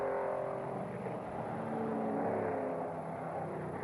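Race cars at the 1963 Road America 500 sports car race make a steady, somewhat distant engine roar with a slight rise and fall, like cars passing on a circuit, heard faintly without talk.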